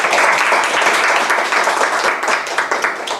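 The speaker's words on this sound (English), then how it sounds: "Let us give a big applause to the Gordon." An audience at a seminar on South Korea–Australia regional cooperation applauds a speaker with dense, steady clapping that fills the room at a loud, even level throughout.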